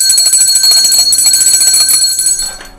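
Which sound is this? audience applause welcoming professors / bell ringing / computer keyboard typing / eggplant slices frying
bell ringing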